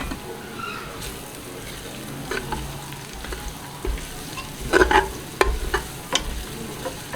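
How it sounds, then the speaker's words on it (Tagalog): Garlic frying in oil in a pot, a steady low sizzle with scraping stir strokes and a few sharper clinks of a utensil against the pot toward the end, no voices. "We're going to fry the garlic until it's brown."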